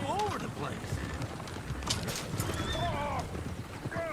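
Horses in the Red Dead Redemption 2 video game whinny repeatedly and hooves clip-clop steadily on a town street, with someone talking loudly over the commotion.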